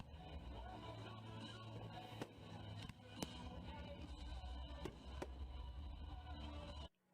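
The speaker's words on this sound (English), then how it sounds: "as the fireworks light up the sky" Several sharp booms and cracks burst out at irregular intervals over a dense, continuous rumble of distant crowd and background noise.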